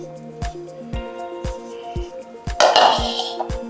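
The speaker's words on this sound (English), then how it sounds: "So we're going to strain our mixture twice" Leche flan custard mixture strained into a bowl: a series of light clinks and taps from a metal strainer against the bowl, then a short wet pouring swish near the end, close and clear.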